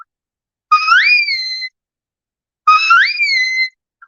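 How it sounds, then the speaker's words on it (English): A sheepdog herding whistle command on a sheep farm, two identical sharp rising-and-falling whistle blasts about a second each, separated by a pause, loud and clear against silence. "I would use my whistle, and it would sound like this."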